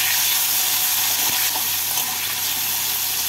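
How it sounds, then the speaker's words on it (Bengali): Chopped tomatoes hiss and sizzle steadily in hot oil with green chillies and black cumin while being stirred, a close, continuous frying sound with a faint knock of the spoon. "এবার এর মধ্যে দিয়ে দেব কেটে রাখা টমেটোটাকে তেলের মধ্যে একটু নাড়াচাড়া করে নিচ্ছি।"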